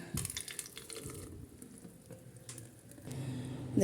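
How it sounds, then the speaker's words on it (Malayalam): Homemade mango shake poured into a jug, a continuous close liquid splash and trickle with no talk, swelling louder near the end. "നമുക്ക് ഈ ഒരു ജഗ്ഗിലേക്ക് ഒഴിച്ചു കൊടുക്കാം"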